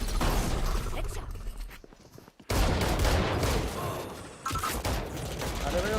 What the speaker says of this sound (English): वो shot gun है भाई मशीन गन नहीं है